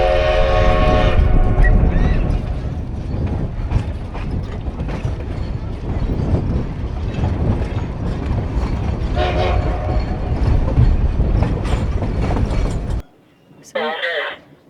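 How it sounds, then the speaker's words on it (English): A train in northern New Mexico rumbles and clatters loudly close by, with a horn blast near the start and another midway, then the noise cuts off abruptly. "people that drive out here just to watch the train come in"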